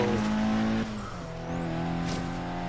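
Rally-cross car engine in Forza Horizon 3, revving loud and close with a steady harmonic drone, a sharp drop in pitch near the one-second mark, then climbing again as the car accelerates, tires briefly squealing.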